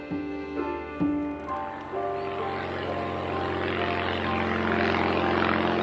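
A propeller airplane flying over La Jolla in San Diego: a loud, steady droning engine with a strong buzzing hum that swells and grows rougher as it passes close by overhead.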